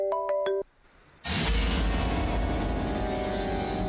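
A mobile phone ringtone for an incoming call in a Telugu TV serial scene: a quick run of repeated bright electronic tones lasting about half a second, then a short lull and a loud, sustained wash of sound.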